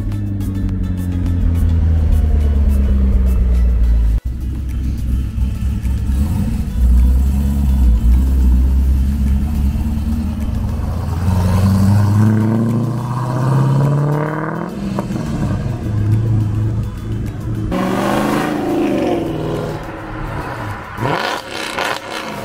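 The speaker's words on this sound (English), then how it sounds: "An E90 M3 with a blower on it." A supercharged BMW E90 M3 at a Houston cars and coffee meet revs and rumbles nearby, its engine note climbing and falling with whining surges, loud and steady with crowd ambience behind it.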